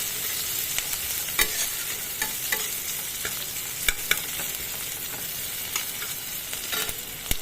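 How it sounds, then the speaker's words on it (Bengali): Onions fry in oil in a pan, giving a continuous close sizzle with intermittent sharp clinks and scrapes of a spatula stirring, and no voices. "পেঁয়াজগুলো ভাজা হোক"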